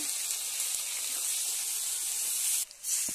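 Chopped onions dropped into hot oil already holding bay leaves and green chilies, giving a loud, steady hissing sizzle close by that dips briefly near the end.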